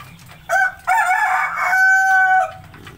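A single loud Ayam Cemani rooster crow, close and clear, with a sharp opening and a long drawn-out tail, then quiet.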